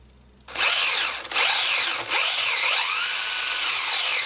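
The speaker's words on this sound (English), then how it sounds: "Yeah, that brushless motor spins up pretty quick." The brushless motor of a DEERC 300E 1/18 4WD RC truck spins up abruptly after a quiet start, a loud high-pitched whine that sweeps up and down in pitch across several throttle bursts.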